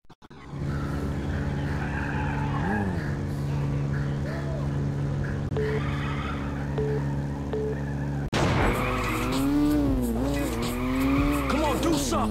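Street race cars skidding and squealing their tires in the video game 187 Ride or Die, under steady engine drone and game music, with a louder burst of revving and screeching tires near the end.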